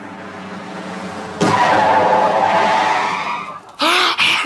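A car skids in an old road-safety educational film, starting as a low engine hum, then a loud burst of sliding tires, followed by short high-pitched squeals near the end.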